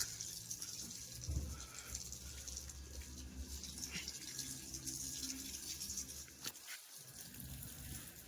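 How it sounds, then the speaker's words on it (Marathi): Water sprays steadily over a newly delivered car being washed, a continuous close hiss and splash that runs unbroken, with a brief low thump partway through. "चाललंय पाणी मारायचं."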